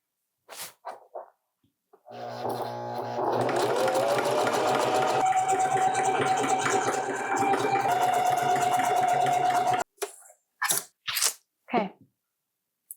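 A sewing machine runs close and steadily for about eight seconds, zigzag stitching a t-shirt arm, with short clicks and handling noises before and after.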